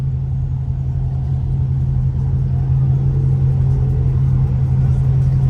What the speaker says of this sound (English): Big ass truck kicking rocks and shit.